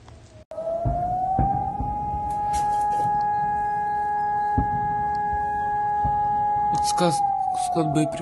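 An air-raid siren wails continuously near a Russian ammunition and gunpowder plant, rising at the start, holding a steady loud tone, then falling at the end, with faint clatter and noise underneath.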